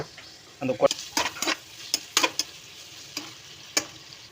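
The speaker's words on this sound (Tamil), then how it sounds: "கொஞ்சம் கிண்டி விட்டுடலாம். நல்லா வெங்காயம் செகந்தால் தான் அந்த டேஸ்ட் வரும் நம்மளுக்கு." Onions frying for mutton curry are stirred in a pan, giving a series of close, irregular scraping strokes over a faint, low sizzle.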